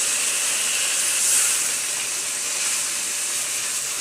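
Water hits a hot pan of frying spice mix and throws up a steady, loud steaming hiss that stays even for several seconds, close by, with no talk.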